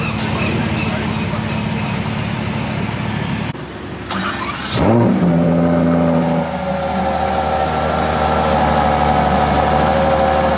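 A Ferrari F40 starts up at a car gathering, a brief gap and then a sharp bark as the engine catches, settling into a loud, steady rumbling idle close by.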